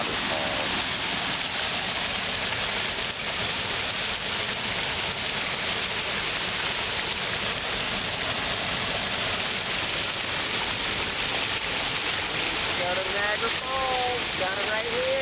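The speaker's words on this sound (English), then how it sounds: "Waterfalls." Pond waterfall pouring steadily, a dense continuous rush of falling water close by, with a few faint chirps near the end.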